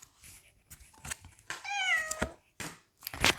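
A cat meows once in a clear, drawn-out, rising and falling call, surrounded by soft rustling and small handling noises nearby, with no talking.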